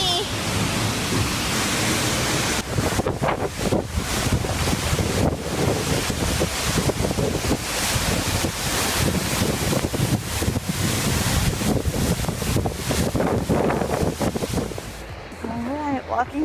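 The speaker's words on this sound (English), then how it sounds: "Behind the waterfall. See it? So awesome. It's crazy. So much power." Powerful Icelandic waterfall heard from behind the falling water: a dense, steady roar that fills the whole clip, loud and close, with gusts of wind buffeting the microphone.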